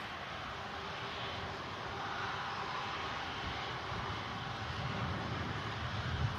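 A fixed-wing aircraft at Manchester Airport, with steady broadband engine roar that holds at a constant level and swells slightly near the end, heard from a distance with no talking.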